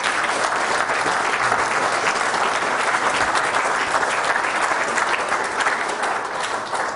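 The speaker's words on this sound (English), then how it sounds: "once again, one more round of applause for Ankur." Sustained audience applause at a talk, dense and steady for the full stretch, loud and close with no voices over it.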